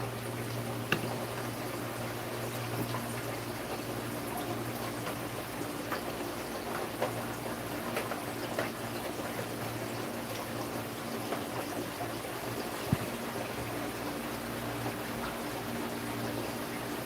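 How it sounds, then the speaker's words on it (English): Water being changed in an aquarium tank, a steady low wash of running and bubbling water with a faint constant hum, fairly quiet and continuous throughout with no talking. "I'm changing water in the background."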